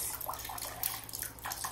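Water running and trickling out of leaks in an old container, a steady close splashing flow with small drips, and no talking.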